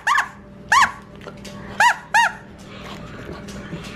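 A dog's squeaky toy squeaks four times in short, sharp, high-pitched bursts: two near the start, a pause, then two more close together, loud and near over a quiet room background.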